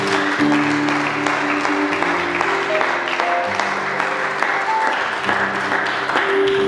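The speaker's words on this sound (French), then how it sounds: "toi tu mérites des applaudissements" Audience applause at a memorial gathering, steady and sustained throughout, with tonal music or voices faintly layered underneath.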